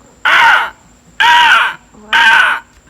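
A human voice imitates a scarlet macaw, giving three loud, harsh, raspy squawks evenly spaced with short pauses between them, close and dominant.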